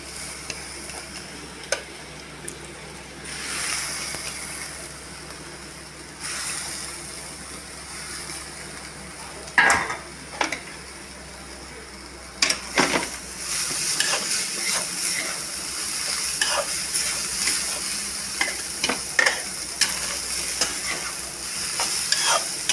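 Squeezed vegetable stirred and fried with ground lentils for paruppu usili in a pan, a steady close sizzle with scattered scraping stir clicks and ladle knocks, no talking.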